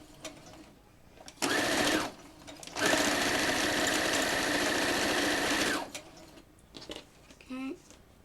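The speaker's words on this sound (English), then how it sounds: "I want to make sure that I flip it over to sew the other side" Sewing machine stitching fabric pattern pieces, a steady whirring hum in two runs, a short burst and then a longer sustained stretch of several seconds, with quiet handling sounds and faint talk around it.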